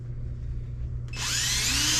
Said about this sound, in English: You're going to want to drill a hole